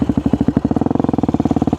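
A Yamaha WR dirt motorcycle in second gear, engine pulsing in a steady rapid beat as the throttle opens for a wheelie, loud and close with a rising, clattering tone.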